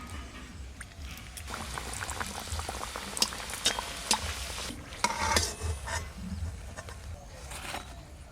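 Peas kachori frying in a pan of hot oil, a steady bubbling sizzle with occasional louder crackles and stirring clinks, close and continuous with no talk.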